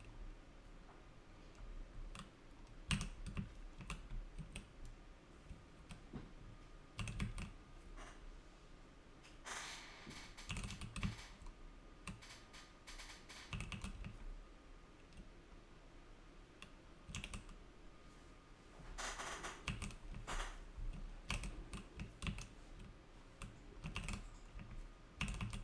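Computer keyboard typing during a Disney Dreamlight Valley stream, with bursts of rapid clicky keystrokes separated by short pauses, fairly close and moderately loud, with no talk over it.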